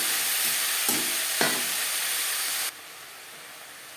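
Chopped grass pea greens with beans and eggplant sizzle steadily in a hot pan as they are stirred, with a couple of scraping clicks before the hiss suddenly drops away.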